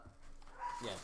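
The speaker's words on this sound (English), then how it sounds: "Sorry about my dogs in the background, by the way." Dogs barking faintly in the background indoors, a couple of distant yips and a short whimpering bark near the end, with no clear talk over them.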